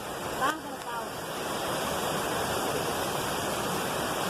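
Steady rushing water from a waterfall in Serra Negra State Park, Itamarandiba, Minas Gerais, Brazil, roars continuously, a constant broadband wash, with a brief faint voice near the start.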